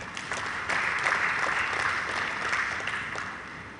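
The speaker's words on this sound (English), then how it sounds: "deserves some applause from us, the audience" At a water science conference, the audience gives a short round of applause for young researchers, steady mid-level clapping from a seated crowd that holds evenly throughout.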